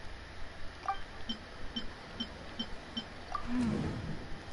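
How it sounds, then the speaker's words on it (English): An Akasha operation prompt beep in Genshin Impact: a run of about seven soft, evenly spaced short beeps, faint and alone, followed by a brief slightly louder tone near the end. "The beep is a prompt tone for Akasha operations."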